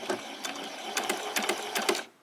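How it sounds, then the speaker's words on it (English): A sewing machine stitches a few stitches forward and then back while a top for a summer outfit is sewn, giving short rapid bursts of mechanical whirring close by, four or five quick runs with brief pauses, no talking. "So we'll go to the sewing machine."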